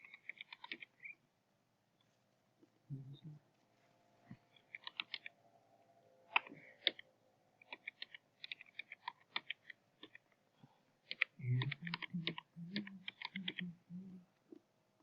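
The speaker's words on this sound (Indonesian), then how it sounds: "coba kita ketikkan dulu nama teman-teman ya" Names are typed on a computer keyboard in quick bursts of light plastic key clicks with short pauses between words, close and fairly quiet, with a few heavier thocks from larger keys.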